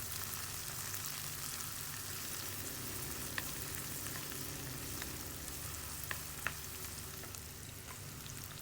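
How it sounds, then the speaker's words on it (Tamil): Onions sauté in a hot pan for broccoli rice, giving a steady soft sizzle with a few faint clicks of stirring, fairly quiet and with no voices. "இப்போ ஆனியனும் போட்டு நல்லா வதக்கிடுங்க."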